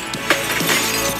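A brief crash of breaking window glass, one sharp shattering burst followed by a short noisy tail.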